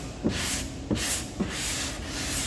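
A hand sanding block rubs over the repaired aluminum bed of a 2016 Ford F-150, making steady close rasping strokes with a few sharper knocks at stroke changes, no talking.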